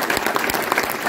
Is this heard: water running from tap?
no